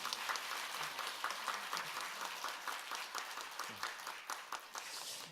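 Congregation applause during a church completion ceremony, fairly quiet and distant, a steady patter of many hands with a few sharper individual claps standing out.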